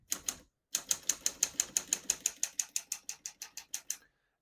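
Typing on a 1937 Corona Standard flat-top portable typewriter: two quick keystrokes, a short pause, then a steady run of about twenty crisp, close, evenly spaced key strikes that soften slightly toward the end, with no talking.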